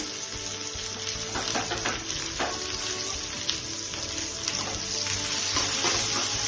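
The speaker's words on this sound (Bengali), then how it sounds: "পেঁয়াজগুলো দিয়ে দিচ্ছি, দেখুন কুচি করা পেঁয়াজ দিয়ে দিচ্ছি" Chopped onions frying in a pan for fish curry, giving a steady, close sizzle with light crackle throughout and no talking.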